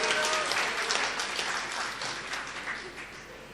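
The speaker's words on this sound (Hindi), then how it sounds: "एक मरतबा जोरदार तालियां बजाकर इजाजत देंगे" A crowd at a poetry recital (mushaira) applauds with dense, steady clapping that gradually tapers off toward the end.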